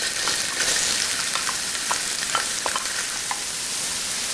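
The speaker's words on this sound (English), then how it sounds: "We're going to cook the carrots for 2 minutes until the carrot is slightly soft." Carrots frying in hot infused oil give a steady, close sizzle with small crackles and pops throughout, with no voices.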